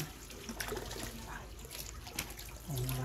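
Strong flow of fresh water running through a backyard vegetable garden in the province, a steady broadband rush with a brief voice over it and a louder low surge near the end.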